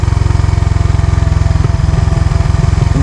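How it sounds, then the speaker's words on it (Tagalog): Suzuki Raider Fi motorcycle engine braking on a steep descent, a loud close rapid pulsing engine note that chugs evenly, then dips and turns more uneven partway through, with no talking. "Yan na yung tinatawag na engine brake mga boss."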